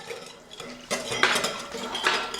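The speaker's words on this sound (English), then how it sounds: "some turmeric powder, some red chili powder, and just give it a nice stir." Spices such as turmeric and red chili powder are stirred in a pan with a metal spoon, producing scraping and clinking of utensil against cookware that starts quietly and grows louder, with a few distinct clinks and no talk.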